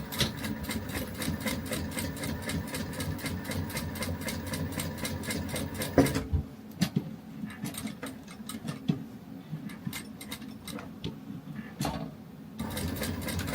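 Sewing machine stitching pocket card holders, a steady rapid mechanical whirring that runs continuously, then stops into quieter intermittent clicks and short bursts before resuming.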